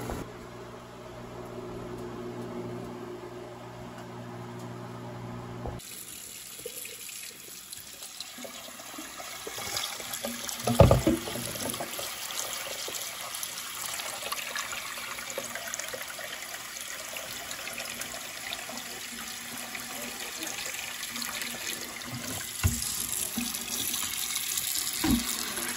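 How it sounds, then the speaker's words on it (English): Tap water pours into a pot of boiled eggs in a kitchen sink, a loud steady splashing rush that starts suddenly after a low hum and keeps running, with a few clanks partway through. "I'm about to pour this out, run some cold water over it."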